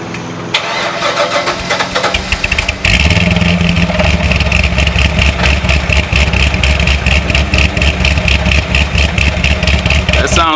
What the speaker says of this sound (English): It sounds good for a stock exhaust.